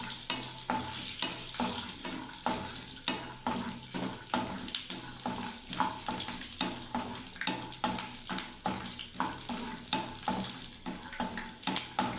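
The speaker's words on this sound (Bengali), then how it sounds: "আমি বাদামটাকে ভেজে নিচ্ছি আগে" Peanuts fry in a pan for jhaal suji, crackling and sizzling steadily with repeated scraping stirs throughout, loud and close.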